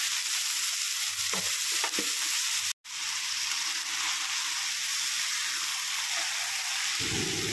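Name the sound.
chicken and Gobindobhog rice frying and stirring in pan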